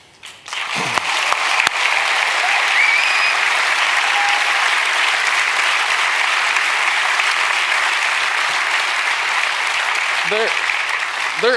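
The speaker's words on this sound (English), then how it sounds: "There's been a lot of clapping here." Sustained, loud audience clapping at a talk by a chef and food-service founder, a dense even wash of many hands from near start to finish, with brief vocal sounds at the edges.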